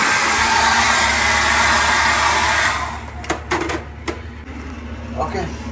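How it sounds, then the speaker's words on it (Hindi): A hair dryer in a bathroom blows with a steady, loud whooshing roar for about three seconds, then cuts off, followed by a few handling clicks and a voice talking nearby. "ये है हेयर ड्रायर"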